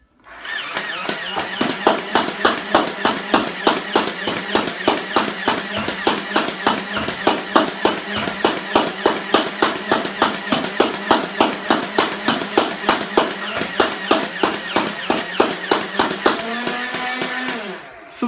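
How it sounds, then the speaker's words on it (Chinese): Nerf Rhino-Fire blaster firing darts in a rapid, steady stream of sharp mechanical clacks lasting about sixteen seconds, loud and close, winding down at the end. "很爽快啊，50发子弹大概几十秒不到的时间就射完了。"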